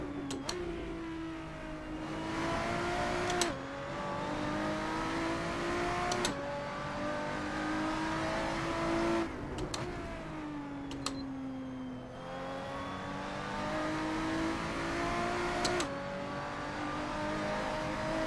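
Lotus 3-Eleven race car in Assetto Corsa at Brands Hatch, its engine revving hard and steady through repeated upshifts, each gear rising in pitch before a sharp shift break, loud and continuous throughout.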